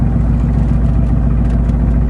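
Mercedes-AMG GT S engine rumbles at low speed while parking, a loud, steady deep drone with a throbbing low-end that holds constant from start to end, close and alone without voices.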